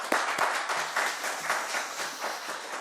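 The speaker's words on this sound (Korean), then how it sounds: "그동안 어쨌든 고생하신 우리 장원기 교육감께도 다시 한 번 더 큰 박수 부탁드리겠습니다" Members at an education committee session applaud a departing superintendent, a steady room-wide clapping with a few sharper close claps near the start, continuing evenly without speech.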